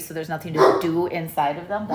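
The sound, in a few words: dog barking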